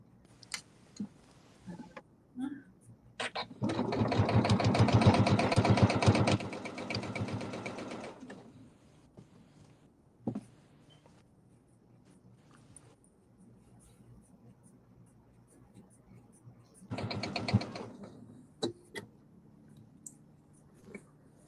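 A sewing machine stitches fabric in a loud burst of rapid mechanical chatter lasting a few seconds, then a shorter second run, with clicks and quiet handling noises in between.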